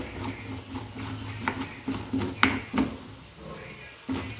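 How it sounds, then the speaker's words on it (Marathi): Chickpea curry masala with besan (gram flour) being stirred and sautéed in a pan, giving a soft steady sizzle broken by scraping spatula strokes and light clinks against the metal, fairly close, with no talking. "आणि मस्त फास्ट पटपट पटपट हलवून घेणार आहे, छान परतणार आहे"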